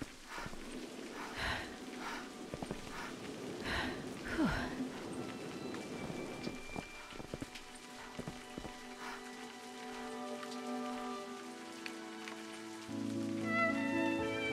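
Steady rain patters across the Scottish highland landscape of the game A Highland Song, a broad soft hiss with scattered drops, later joined by a sustained tonal musical drone near the end.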